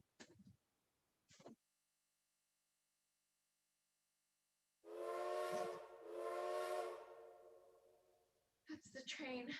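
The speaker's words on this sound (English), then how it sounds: "That's the train." A train whistle sounds in two long, strong blasts with a hissing edge, loud and near. Short bits of voice come before and after it.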